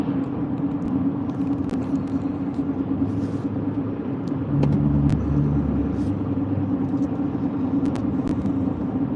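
Car rolling along a road in the Kenai area of Alaska, a steady low engine and tyre rumble held throughout, with a brief deeper hum rising midway and no talk.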